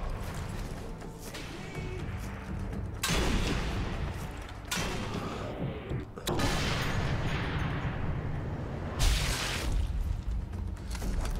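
Rifle shots and crashing impacts in the World War II shooter Sniper Elite 3, several loud bursts cutting through a dense, noisy game soundscape, with a voice talking over part of it.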